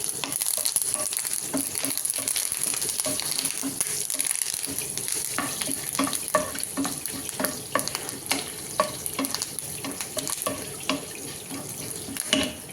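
Curry leaves and dried red chillies crackling in hot tempering oil for a mint pickle, a close steady sizzle with rapid popping spurts and utensil scrapes, no voices.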